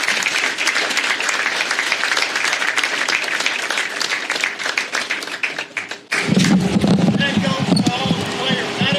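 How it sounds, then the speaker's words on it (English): A stadium crowd applauds a football coach celebrating 700 wins, a sustained loud roar of clapping and cheering that drops briefly before surging back fuller and closer. "Please join us in giving a loud, heartfelt round of applause for Coach Rick Collier"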